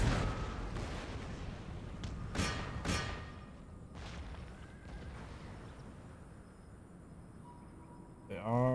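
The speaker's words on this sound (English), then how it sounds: "They must be artillery." Artillery fire on a Total War Empire battlefield, a few heavy booming shots in the first seconds over a low rumble of battle, then quieter ambience with a horse whinny at the end.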